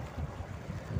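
Soft outdoor wind rumbles steadily in open air: a faint, low, even whoosh with no voices.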